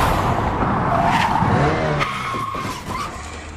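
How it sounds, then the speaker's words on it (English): Animated cars driving in the Death Note anime, with tires skidding and an engine roaring at close range, loud and steady throughout with no talking. "Like in Death Note, when you see like cars and shit driving."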